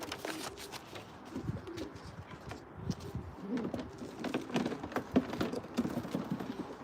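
Pigeons coo softly and repeatedly in the background amid a dense, rustling flutter of nearby birds.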